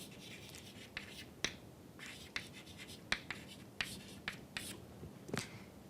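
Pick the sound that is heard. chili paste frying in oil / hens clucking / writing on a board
writing on a board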